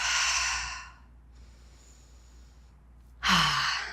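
A deep breath between weighted exercises in a full-body sculpt workout with light weights: a long, airy exhale at the start, then a quiet gap, then a sharp, close inhale near the end.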